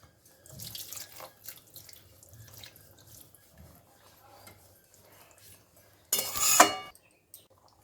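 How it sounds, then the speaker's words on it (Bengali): Warm water is poured into a pan of Bengali-style tengra fish curry in a home kitchen, making one brief, close splash near the end, after soft clatter and a quiet voice. "এবার আমি এর মধ্যে দিয়ে দেবো গরম জল, উষ্ণ গরম জল দিচ্ছি।"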